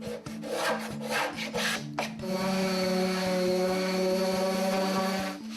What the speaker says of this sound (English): Sanding the grain takes it down to its original form